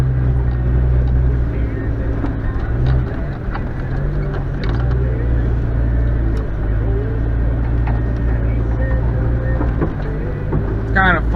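A lifted Jeep XJ on 33s runs along a muddy old logging road, its engine droning low and steady up close, with squelching and rattling over the ground.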